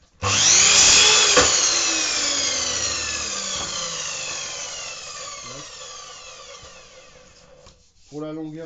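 A small miter saw slices through false ceiling panel material: a loud motor whine spins up, bites through the cut, then winds down slowly, with a short voice at the very end.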